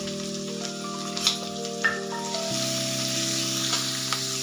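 Finely chopped onions for kanda poha sizzling steadily in a hot pan, a constant close frying hiss with occasional light stirring clicks, no speech.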